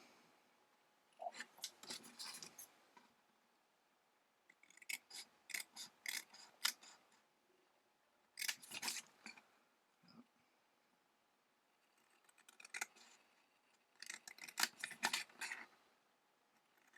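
Scissors snipping lines into paper to make a small folded box: quiet, close, crisp cutting strokes in four short bursts of rapid snips separated by pauses.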